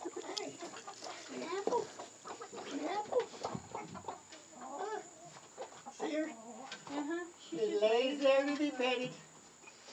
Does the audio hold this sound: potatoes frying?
no